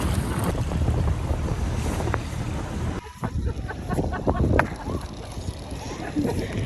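Strong wind buffets the microphone aboard a sailboat on a New Zealand river, a loud steady rumble that briefly drops and then gusts back, with people talking underneath.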